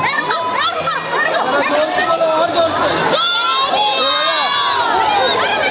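A festive crowd at a kalash yatra procession in Nerul village, Navi Mumbai, loud and close with many voices cheering, shouting and chattering together continuously, women and children prominent among them.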